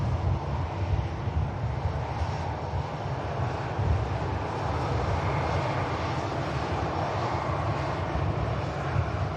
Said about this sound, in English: EasyJet lined up for Belfast. In fact, already on the roll.